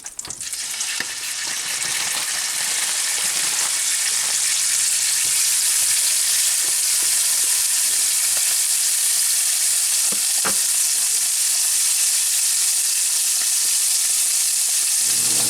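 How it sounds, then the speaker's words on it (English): Loud, steady sizzling of venison frying in butter in a hot pan, continuous and close, with a few small pops and no talking. "Frying these up. some butter in the pan,"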